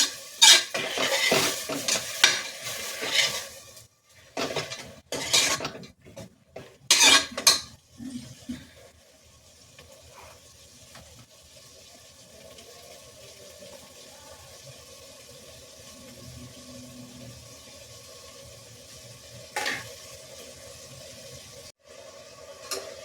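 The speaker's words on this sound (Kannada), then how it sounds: "ಇವಾಗ ಇದು ಸ್ವಲ್ಪ ಫ್ರೈ ಆಗಿದೆ ಕಾಳು." Kaalu legumes fry in a pan for a Sankranthi festival sambar, opening with loud bursts of stirring and metal scraping against the pan, then settling into a quieter, steady low sizzle with an occasional clank.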